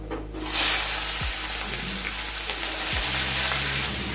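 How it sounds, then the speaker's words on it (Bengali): Chopped onions, whole garlic cloves and slit green chilies hit hot oil for a desi chicken curry, bursting into a loud, dense, continuous sizzle that stays close and steady throughout. "দিয়ে দিলাম পেঁয়াজ কুচি আর 4টে গোটা রসুন"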